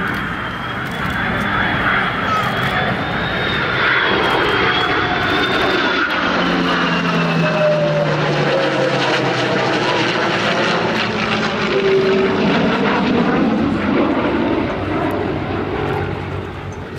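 A Red Tail propeller warbird of the Tuskegee Airmen flies past at a Gulf Coast Salute open house air show, with a loud, steady piston-engine drone and prop whine that swells and shifts pitch as it passes.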